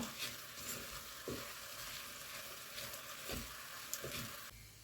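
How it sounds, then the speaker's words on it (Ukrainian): Paprika sizzles and fries in a pot of lean mushroom and pearl barley soup base, with soft scraping from stirring at a few points, heard faint and close. "перемішую щоб добре трошки паприка обсмажилася"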